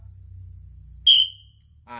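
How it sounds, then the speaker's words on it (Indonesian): One short, shrill whistle blast sounds as a signal from a sprayer working inside a plantation block, standing out sharply against a low background hum, followed by a brief faint rise of another sound. "Jika peluitnya 1 seperti ini Pak"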